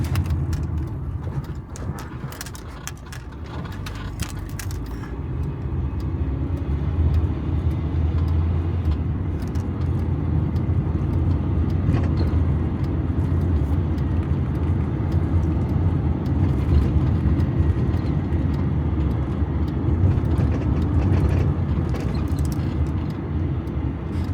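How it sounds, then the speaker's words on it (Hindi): Steady road traffic on Park Road in a city, a continuous low rumble of passing cars and engines heard from a distance with no talking. "पार्क रोड ते हसबे मामूल ट्रैफिक रवां दवां।"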